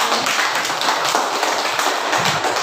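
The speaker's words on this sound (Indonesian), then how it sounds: "mari kita tepuk tangan dulu" A junior high school class claps together in a classroom, a dense, loud burst of many hands striking at close range for a few seconds, with no voices.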